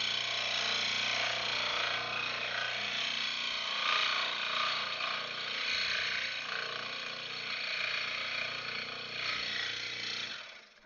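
A scroll saw cuts hardwood at a workbench, a loud continuous buzzing, rattling drone held steady for about ten seconds before cutting off.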